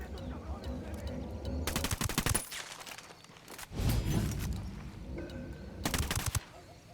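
Automatic weapon fire in the tactical shooter Ghost Recon, three separate loud bursts of rapid shots close by, separated by quieter stretches of game ambience.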